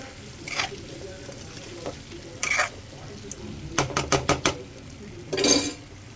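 Potato fry sizzles gently in a pan over a low gas flame, with a soft steady frying hiss. A spoon scrapes and stirs through it, and a quick run of clinking taps lands against the pan partway through.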